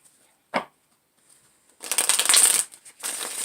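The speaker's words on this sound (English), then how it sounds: "when I started to shuffle these cards" A deck of tarot cards is shuffled up close: a single snap, then a rapid riffling burst followed by another shorter shuffle.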